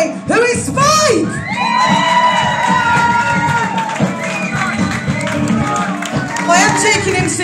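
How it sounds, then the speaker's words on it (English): A lively birthday crowd cheers, whoops and shouts loudly and continuously, with excited children's voices and high yells rising over the dense roar from start to finish. "would you give a huge round of applause for the birthday boy, who is Spike?"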